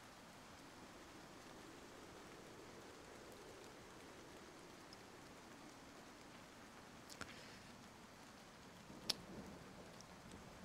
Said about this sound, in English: We'll keep the rain on in the background because I quite like that.